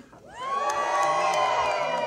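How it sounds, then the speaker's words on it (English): A crowd at a Grouse Mountain lumberjack show erupts into a loud, sustained cheer, many voices rising together into whoops and shouts that swell quickly and hold at full volume. "I'd like to hear your biggest, loudest, and rowdiest Blue Mountain cheer"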